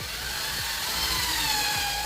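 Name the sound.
power drill pre-drilling holes in wooden jig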